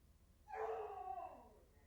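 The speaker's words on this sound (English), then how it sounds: "My apologies if you guys can hear the dog." A dog whimpers or gives a drawn-out yelping cry indoors, one fairly faint call lasting about a second, rising and then trailing off against a quiet room.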